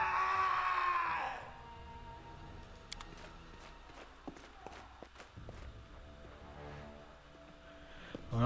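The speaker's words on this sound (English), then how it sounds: "that definitely sounded like a scream" Sudden loud scream in the Pathfinder: Kingmaker role-playing game, a shrill cry at the start that gives way to quiet clip-clopping footsteps and scattered clicks in a hushed scene.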